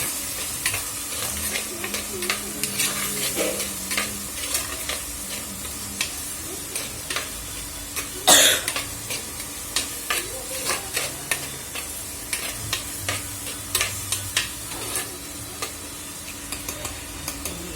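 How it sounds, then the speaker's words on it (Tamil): Prawns sautéing in a pan, a continuous sizzle broken by repeated scraping stir strokes and one sharp clack of a utensil partway through. "இப்போ எறா போட்டு நல்லா வதக்கிக்கலாம்."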